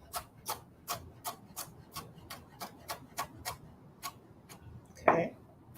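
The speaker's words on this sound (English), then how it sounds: "Just dice it up, small dice." Small knife dicing vegetables on a cutting board, about a dozen quick evenly spaced chops close by, then a short louder scrape or clatter near the end, no speech.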